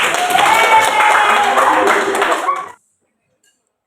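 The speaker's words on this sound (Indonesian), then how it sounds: "tepuk tangan buat Putra." A classroom breaks into lively group clapping for a student, loud and dense for about two and a half seconds before stopping abruptly into silence.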